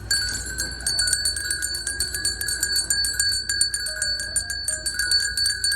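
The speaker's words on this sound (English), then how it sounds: "Listen to that happy belling." Jingling Christmas decoration bells in a Hobby Lobby store display, a continuous bright shimmering ring with steady rapid clangs, fairly loud and close, no talk heard.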